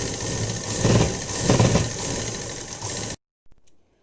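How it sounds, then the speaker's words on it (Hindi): A sewing machine stitches a cuff onto a dress, giving a steady close mechanical whirr for about three seconds. It then stops abruptly and a faint short rattle follows. "अब हमको इस तरह से इसको रखना है और एक सिलाई लगा देनी है।"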